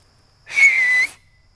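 A person whistles a single sustained, fairly high note, imitating a bird call. It rises out of silence, holds for about half a second, then stops abruptly.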